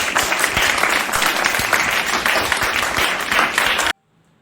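A school morning-assembly audience claps for a student's performance, a loud, dense, even wash of applause that stops abruptly near the end, leaving near silence.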